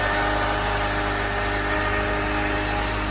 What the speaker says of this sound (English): Starter's good. Engine running.